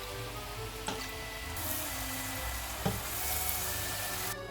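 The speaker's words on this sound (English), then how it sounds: "And now you let it cook for 3 to 5 minutes until the mushrooms cook down" Mushrooms sizzle steadily in a hot pan with melted butter for a vegan bourguignon, a continuous close frying hiss with a couple of soft clicks of stirring, no voices.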